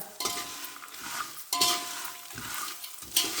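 Peanuts stirred and roasted in a dry pan for kara pori, a spoon scraping the metal surface in repeated strokes with soft rattling and clinking, close and moderately loud.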